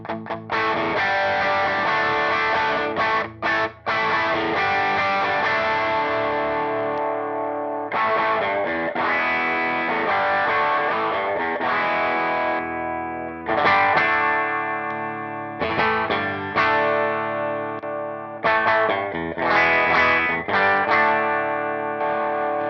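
An electric guitar runs through a Chase Bliss and Analogman Brothers AM overdrive pedal on a mid-forward, King of Tone style preset, playing loud, gritty chords and riffs with pauses and ringing sustains, with no talking.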